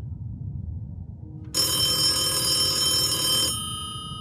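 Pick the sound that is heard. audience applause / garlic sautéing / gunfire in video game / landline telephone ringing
landline telephone ringing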